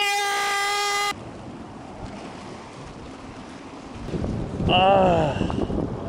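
Strong cold winter wind buffets the microphone at the Sihwa seawall during a fishing trip, a steady roaring rush with surging gusts, while a man briefly exclaims.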